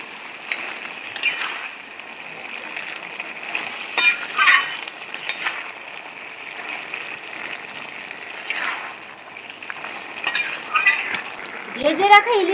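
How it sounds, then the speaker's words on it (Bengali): Poppy seed paste being stirred into a pan, with scattered close metal spoon clinks and scrapes over a steady low frying hiss, moderately loud with no talk. "বেটে রাখা পোস্তটা দিয়ে দিচ্ছি। ভালো করে এখন মিশিয়ে নিচ্ছি।"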